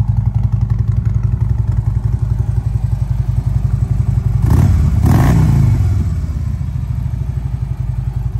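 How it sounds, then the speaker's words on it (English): A Harley-Davidson Dyna Wide Glide idles with a deep, throbbing exhaust rumble close up, briefly revving louder midway before settling back to a steady loping beat. "that deep exhaust sound is amazing"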